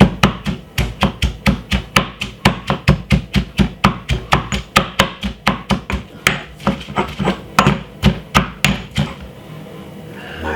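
Rapid, steady beating of an egg mixture with chopped white onion in a bowl, dozens of sharp close strikes in an even rhythm lasting about nine seconds, then stopping, with no talking.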